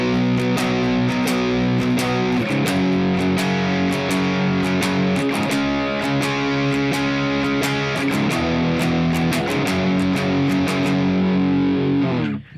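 Distorted electric guitar plays the chorus of a song, loud sustained chords repeating through a steady chord sequence, alone with no talking.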